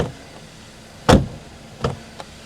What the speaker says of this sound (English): Door open and close from the outside